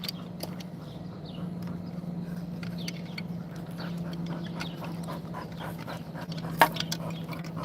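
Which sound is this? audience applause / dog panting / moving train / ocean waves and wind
dog panting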